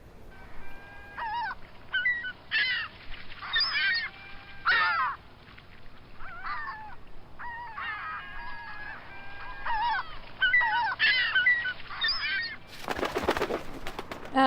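Seagulls and pigeons call together outdoors, a busy mix of repeated harsh squawks and cries coming in bursts at moderate distance, with a sharp noisy flutter or rustle near the end.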